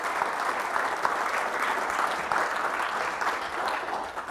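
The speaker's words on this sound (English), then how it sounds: "Give them a big round of applause" Steady, evenly sustained clapping comes from an audience at a speech held at Harvard University and carries through the whole stretch without letting up, with no voices over it.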